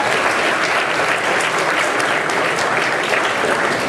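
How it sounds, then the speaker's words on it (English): An audience at a closing session breaks into loud, sustained applause, a dense and even roar of many hands clapping with no break. "so round of applause."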